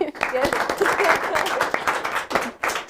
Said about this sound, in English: Everybody give a round of applause to Scooby-Doo